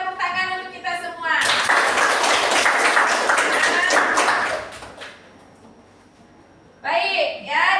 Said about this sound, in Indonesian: Mari kita tepuk tangan untuk kita semua.